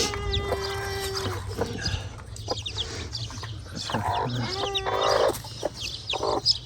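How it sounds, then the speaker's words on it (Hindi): A hen clucking repeatedly at close range among other chickens, with short clucks and squawks scattered throughout over a low background hum. "ये मुझे मार रही है मुर्गी"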